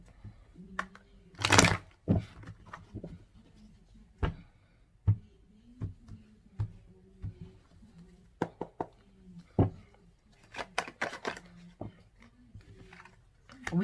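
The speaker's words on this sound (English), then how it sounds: "One more shuffle." Tarot cards are shuffled by hand during a reading, giving sharp dry snaps, riffles and soft taps in an uneven rhythm, close and fairly quiet, with brief pauses between bursts and no talk.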